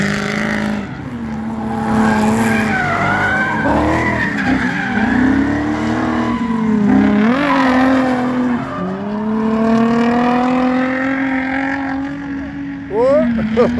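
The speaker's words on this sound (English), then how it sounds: "so it's a Nissan. And then they swap out a V8 engine." At a nighttime drifting event, a drifting Nissan Silvia with a swapped-in V8 engine roars close by, tires squealing in long skids as the engine note rises and falls, sustained and loud throughout.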